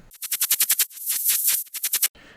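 A white noise layer in a synth-driven electronic track, heard as rhythmic gated bursts of bright hiss in quick pulses, broken by one longer swell before a final run of short chops.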